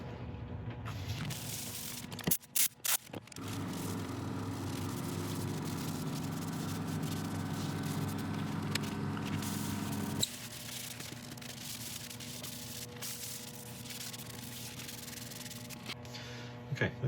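Steady soft rubbing of a cloth soaked in isopropyl alcohol over a turned wooden piece, cleaning off abrasive polishing paste, continuous and close with a few brief louder knocks early on.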